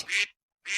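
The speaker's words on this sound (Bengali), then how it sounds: "হাঁসটাকে প্যাক প্যাক" Two short, raspy duck quacks, close and clear, separated by a brief silence.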